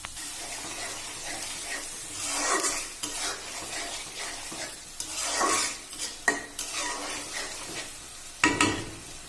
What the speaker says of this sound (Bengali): এবার পানি দিয়ে মশলাটা কষিয়ে নেব।